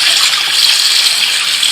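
Water and cucumber seeds pour steadily into a sieve in a continuous, loud rushing splash that lasts the whole moment, with no talking.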